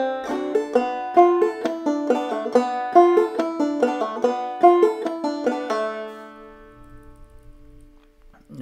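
Clawhammer banjo picks out a passage of Logan County Blues in a brisk, steady rhythm of bright plucked notes, alone and close, ending with a ringing final chord that fades out.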